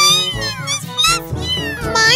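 A kitten meows repeatedly in a quick run of high, rising and falling cries, close and loud, with no other sounds behind it.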